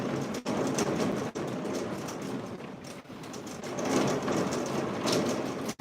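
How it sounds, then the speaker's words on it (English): Steady rain pours down in a dense, even hiss that continues without a break, with a few faint soft thumps underneath and no talking. "We're just gonna listen to the rain, guys."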